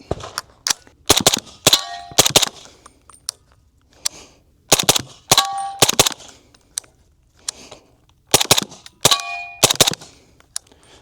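Suppressed SIG Rattler LT in 300 Blackout fires in quick strings, each shot answered by a loud ringing clang from steel targets, in several bursts with short pauses between.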